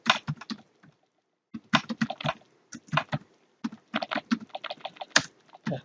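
Code is typed on a computer keyboard for a jQuery project, producing close, crisp bursts of rapid keystrokes separated by short pauses, with no talking.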